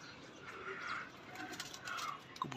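Domestic pigeons give soft, faint calls over steady outdoor background noise.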